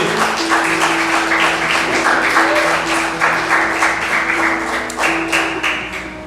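A church congregation claps in a rhythmic, steady beat, loud and close, with sustained organ or keyboard tones playing underneath.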